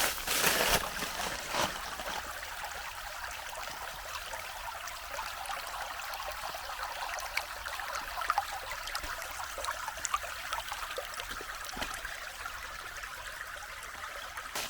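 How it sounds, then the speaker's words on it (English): A babbling brook at a forest campsite on the Big Piney Trail in the Mark Twain National Forest trickles steadily, a soft, continuous watery hiss heard at a distance, with a faint knock at the start. "sweet babbling brook."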